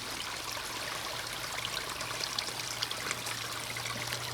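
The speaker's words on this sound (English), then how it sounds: "even though there's water on the road and traffic's going by, the water is drowning out that sound quite well" Water running along a road surface, a continuous close trickling and rushing flow with bright gurgling texture, steady throughout and heard without voices.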